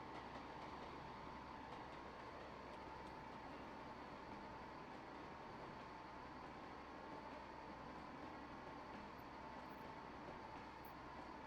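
Two diesel locomotives pulling a very short train in the Trainz 22 simulator, Coalmint Mountains Railroad, give a steady, dense engine rumble with a humming drone, continuous and unbroken throughout.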